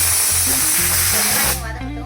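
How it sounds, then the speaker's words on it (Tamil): Onions added to hot oil in a pan already holding cinnamon, clove, mustard seeds and cumin, for a fish curry, give a loud, steady spraying sizzle that drops suddenly near the end, with low voice-like murmurs underneath. "இதில் வந்து நம்ம வெங்காயத்தை சேர்த்துக்கலாம்."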